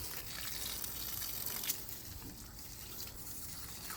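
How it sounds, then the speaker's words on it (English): Water is poured out of animal water containers on a farm, a soft, fairly quiet splashing and gushing that runs steadily with a brief louder splash midway, and no talking. "Pour out the water."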